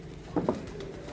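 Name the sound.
pigeons cooing, red-beaded pigeons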